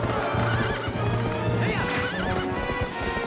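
A horse in the video game Zelda Twilight Princess whinnies with rising and falling neighs over steady clip-clopping hooves and a dense, loud game soundtrack with rumbling effects throughout.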